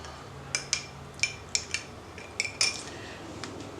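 A utensil mixes seasoned butter in a bowl, producing about eight light metallic clinks and taps spaced irregularly, close and fairly soft against quiet background, with no speech.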